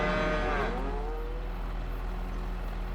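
A single cow moos near the start in Farming Simulator 25, a drawn-out bellow that fades into a low steady background hum for the rest of the moment.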